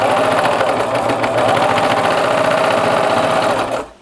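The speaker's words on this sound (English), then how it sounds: "We're gonna serge this edge." Serger sewing machine running steadily as it overlocks the edge of a fabric face mask, a close, continuous motor whir with a rapid stitching chatter that stops abruptly at the end.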